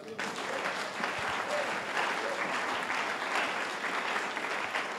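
Church congregation applauding and acclaiming Jesus at a sermon, steady dense clapping from a sizable crowd at moderate distance, continuous for the whole stretch with faint voices mixed in.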